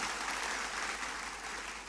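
A church congregation applauds, the clapping steady and fairly faint, spread evenly through a large room.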